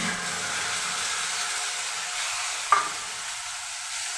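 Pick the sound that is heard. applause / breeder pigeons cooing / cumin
cumin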